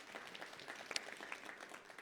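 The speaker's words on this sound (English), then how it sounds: "Can we please give him a round of applause?" Scattered audience applause at a central bank public forum in Soweto, a steady faint wash of clapping with a few sharper individual claps near the middle, heard alone without talk.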